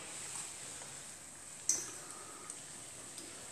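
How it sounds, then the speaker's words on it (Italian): Homemade sofficini fry in a pan with a steady, soft, high sizzle, broken by one sharp clink and a few light ticks of utensils. "Per il momento finiamo di friggere."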